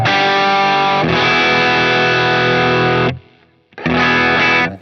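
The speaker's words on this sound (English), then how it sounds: "as you hit footswitch 2, you're going to be adding in some more overdrive" An overdriven electric guitar tone from a Line 6 Helix on footswitch 2 rings out as two long, loud, thick chords, separated by a brief near-silent gap.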